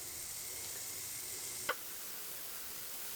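Marble-sized sausage balls sizzle in a hot frying pan, a soft, steady hiss of fat throughout with one sharp tick midway, and no talk.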